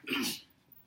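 A single short, breathy sneeze or sneeze-like burst in a food-cutting class, close and fairly loud, trailing into quiet room noise.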